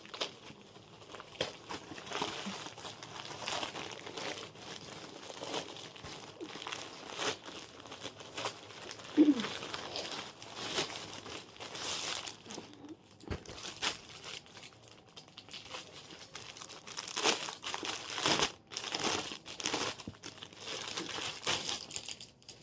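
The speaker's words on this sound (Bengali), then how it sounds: "চলো এটাকেও ছিঁড়ে ছিঁড়ে দেখি কি এসেছে" A clothing delivery package is torn and crinkled open in bursts of plastic rustling, ripping and crumpling, fairly quiet and close, with pauses between handling sounds and no talking.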